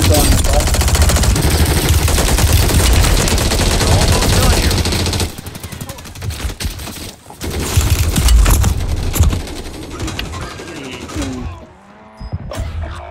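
Rapid automatic gunfire rattles in dense loud bursts during a Call of Duty Modern Warfare 3 battle royale match, dropping off briefly before more volleys, with faint in-game voices beneath.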